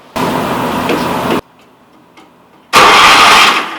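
Engine on a vintage three-wheeler cranking in two loud bursts of rough, whirring turnover separated by a quiet pause, close up with no speech.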